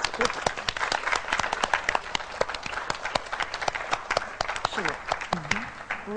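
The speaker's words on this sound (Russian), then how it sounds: "Хлопать, хлопать." A small studio audience on a TV talk show claps in sparse, uneven bursts of sharp individual claps, with voices talking in the background.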